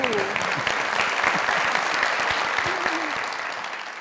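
Studio audience at a comedy talk show claps in a brisk, full burst, with a few voices calling out over the applause.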